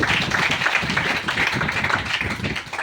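Audience members at a branch business meeting clap together, a brief burst of mixed, moderately loud claps with some voices mingled in.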